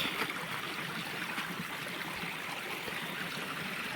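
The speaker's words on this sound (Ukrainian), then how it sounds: "тече вода чистіша. Чистіша вода, гірська" Clear mountain stream flows through a Carpathian forest, a steady close rushing and trickling hiss that holds even throughout, with no voices over it.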